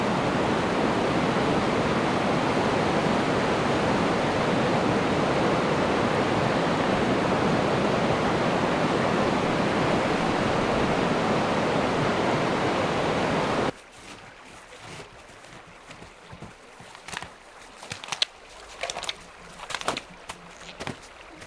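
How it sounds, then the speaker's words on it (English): River rapids roar as a loud, dense wash of rushing water for most of the stretch, then cut off abruptly to quieter scattered rustles and knocks nearby. "set of rapids."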